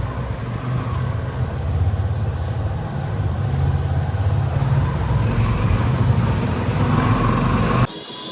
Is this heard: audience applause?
no